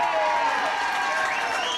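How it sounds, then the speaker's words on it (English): Crowd applause with cheering after a 1991 boxing fight decision, a dense steady wash of clapping filling the whole moment, fairly loud and continuous. "once again, another applause for Mike Parry there"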